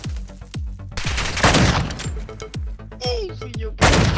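Heavy gunfire from a Call of Duty match rattles in loud, rapid bursts and single cracks, with shots overlapping almost continuously at close range and no pause in the shooting.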